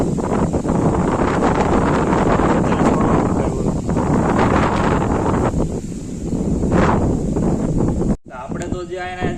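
Strong wind buffeting across an open farm field on a hot day, a steady loud rushing roar that persists for about eight seconds, with a voice speaking briefly under it.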